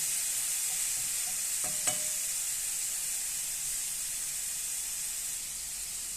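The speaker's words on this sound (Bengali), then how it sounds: "টমেটোটা আমি ভালো করে নিব, কষায় নিব ভালো করে" Tomatoes fry in a pan with a constant bright hiss and sizzle, broken early by a couple of sharp clicks from a spoon or spatula, then settling into a steady, fairly loud frying sound.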